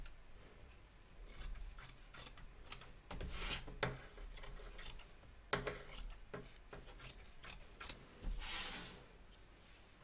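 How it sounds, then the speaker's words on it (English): Scissors snip away excess batting around a stitch line on a fabric music bunting piece, with a series of quiet, irregular close-up cuts and rustling fabric between them. "Trim away the excess batting from around the edge of the stitch line"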